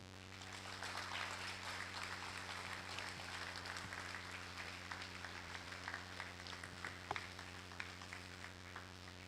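An audience at a university employment clinic applauds Nigeria's Minister of Marine and Blue Economy after his keynote, with many people clapping steadily over a low electrical hum, the applause dense but fairly distant and soft.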